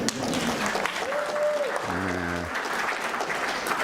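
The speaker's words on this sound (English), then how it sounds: "Thank you for your applause." Audience applause in a lecture hall at a design and technology talk, a steady broadband wash of clapping that holds at a fairly even level throughout, with a brief tonal sound and a low hum partway through.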